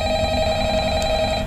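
A loud electronic telephone ring in the video game Five Nights at Freddy's sounds close and clear, with steady tonal bands and no talking over it.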